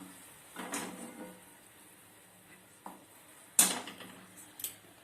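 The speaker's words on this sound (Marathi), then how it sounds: "आता मी पाकाचं पातेलं खाली घेते" A metal pot of sugar syrup set down in a home kitchen, with a few light clanks and knocks, the sharpest one near the end, all fairly faint in a quiet room.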